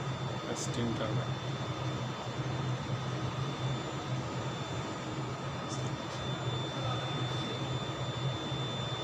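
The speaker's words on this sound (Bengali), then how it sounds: "এটা হচ্ছে স্টিম টারবাইন।" A steam turbine at a power plant rated for 8 megawatts drones on in a constant, even roar with a thin high-pitched whine layered on top, unbroken for the whole stretch.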